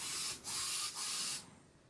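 Three bursts of hissing aerosol spray with brief pauses between them, loud and close, ending with quiet room tone.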